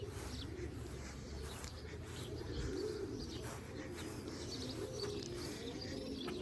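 Pigeons coo softly inside a kit loft, their low murmurs and the odd chirp sitting under a steady background hum, faint and continuous with no talk.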